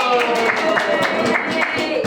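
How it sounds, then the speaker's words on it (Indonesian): Group of people clapping for a correct quiz answer in a classroom, a steady rhythmic round of claps with some voices mixed in, continuous for about two seconds. "Betul, tepuk tangan dulu"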